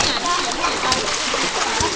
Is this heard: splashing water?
yes